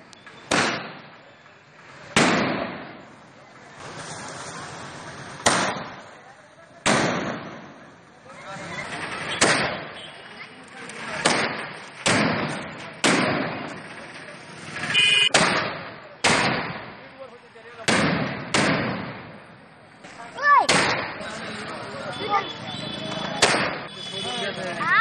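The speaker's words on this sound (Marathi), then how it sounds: "विजयानंतर केज शहरात जागोजागी आडसकर समर्थकांनी फटाक्यांची आतिषबाजी" Firecrackers burst again and again in the streets of Kej town during an election victory celebration. The sharp, loud bangs come at irregular intervals with crackling tails, and faint voices can be heard between them.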